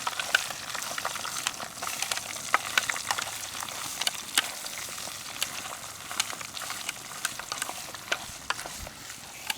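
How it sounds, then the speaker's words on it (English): Raccoon fat renders in a pot with a steady, soft crackle and sizzle. Light scraping and clinks from stirring come through now and then, fairly quiet and without speech. "we're going to want to come in here every once in a while and just kind of stir things around"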